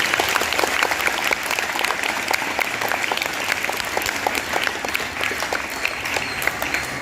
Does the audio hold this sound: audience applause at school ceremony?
yes